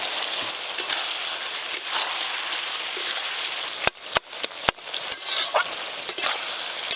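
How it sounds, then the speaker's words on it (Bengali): Poppy seed paste stirred through bottle gourd with fried hilsa head in a pan: a steady sizzle with scattered scraping clicks from the spoon and a few sharper knocks in the middle. "পোস্ত দিয়ে খুব ভালো করে নেড়ে নিয়েছি"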